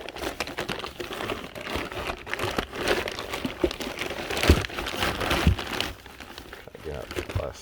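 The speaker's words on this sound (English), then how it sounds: "Get out the plastic." Plastic wrapping crinkling as it is pulled off a used eBay GTX3582R turbo with a .82 housing, a busy, close rustling texture with a few sharper crackles, and some talk mixed in.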